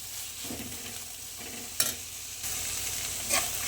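Ghee and poha (flattened rice) frying in a pan for an evening snack, with a steady close sizzle, occasional stirring scrapes and a few sharper clinks of a spoon against the pan.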